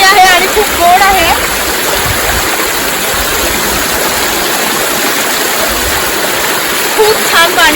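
Clean, sweet stream water in the Konkan countryside rushes and splashes steadily, a loud continuous wash that fills the scene while brief voices surface near the start and end.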